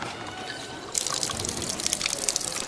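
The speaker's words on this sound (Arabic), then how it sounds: "هذه هي المياه." Water trickles and splashes steadily nearby in a street in Aleppo's al-Idha'a district, starting suddenly after a quieter stretch and staying at a moderate level.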